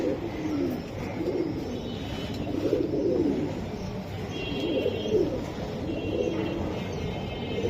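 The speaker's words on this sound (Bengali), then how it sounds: "আর মাদিটা বেজি কবুতর" Bezi pigeons coo steadily in low, rolling, overlapping calls, close by, with a few faint higher chirps over the top.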